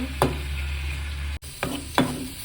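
Gongura leaves cooking in a frying pan, a low steady sizzle with a few sharp scraping stirs of a spoon against the pan, close and without talk.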